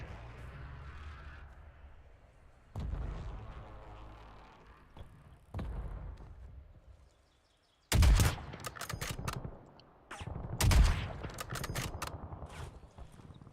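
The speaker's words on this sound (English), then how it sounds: "Someone's shooting at us." Gunfire in Call of Duty Warzone, heard as several sharp bursts of rapid shots cracking close by. They come between quieter stretches of game noise, with no talk over them.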